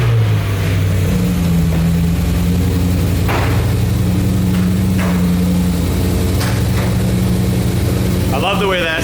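A BMW S65 V8 engine in an E92 idles close by with a deep, steady throbbing rumble, a few light knocks, and a brief rising whine at the end.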